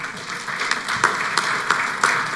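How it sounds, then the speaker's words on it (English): Audience applause at a panel discussion on CRISPR regulation, a steady wash of clapping with a few sharper claps standing out, moderately loud and alone without talk. "I guess you hear from the applause."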